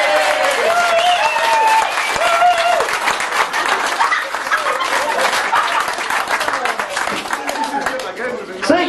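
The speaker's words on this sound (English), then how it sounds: "everyone will give you a huge round of applause" An audience at a British comedy stage hypnosis show gives a sustained, fairly loud round of clapping and cheering, with scattered voices mixed through the applause.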